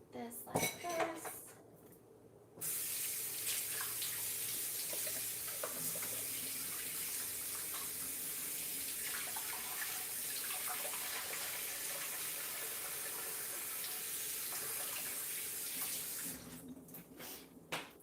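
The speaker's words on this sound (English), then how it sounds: "So I'm gonna soak this really quick in the sink." Tap water runs steadily into a kitchen sink for a pan left to soak after making hollandaise sauce, a broad continuous rush that starts sharply and stops near the end, with faint clinks of dishes at the start and finish.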